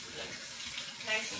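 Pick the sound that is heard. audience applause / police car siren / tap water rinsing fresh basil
tap water rinsing fresh basil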